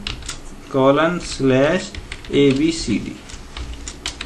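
Computer keyboard keys are typed steadily while VBA code is entered into Excel, a rapid patter of close, light clicks running under intermittent talk.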